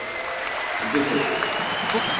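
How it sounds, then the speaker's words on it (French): A large audience breaks into sustained, loud applause at a basketball team tribute ceremony, a dense wash of clapping that swells midway and carries on with a speaking voice faintly over it. "Je crois qu'on peut vraiment applaudir très très fort."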